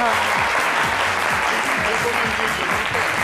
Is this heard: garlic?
no